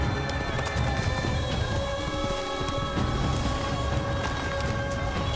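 Horse hooves clip-clop steadily under a busy game soundscape in Assassin's Creed, a running horse close and continuous with faint background ambience and occasional tonal music.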